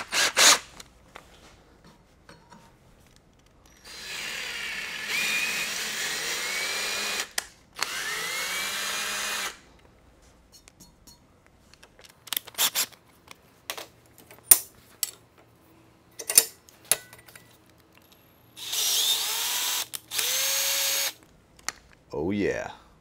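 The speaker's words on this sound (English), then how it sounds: "we can just use a drill to actually do the tapping" A power drill driving a tap into thin metal whirs in several bursts of a few seconds each, its pitch shifting as it works, separated by clicks, clinks and handling noises.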